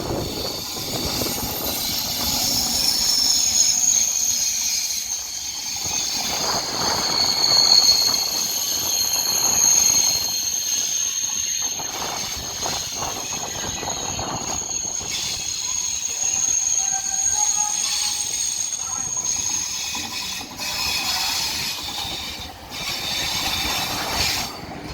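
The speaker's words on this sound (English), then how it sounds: "arriving in now is going to be a Calais TGV set" A Eurostar TGV set arriving at Paris Gare du Nord, wheels squealing in long high whines over a steady rolling rumble and hiss as it eases along the platform at a moderate distance.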